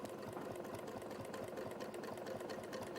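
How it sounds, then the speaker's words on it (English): A sewing machine stitches a circle over clamshell quilting, with a steady rapid mechanical whir and needle clatter running evenly throughout. It sounds close but fairly quiet, with no talking. "Stitching over my clamshells, but you get the idea."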